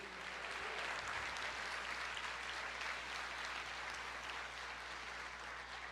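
A church congregation claps in unison during a sermon, a thick, sustained wash of applause lasting several seconds over a low steady hum.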